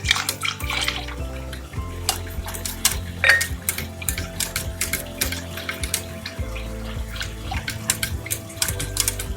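Milk is added bit by bit to béchamel in a pot for a cauliflower gratin and stirred in: close splashes and spoon clinks against the pot over steady soft music.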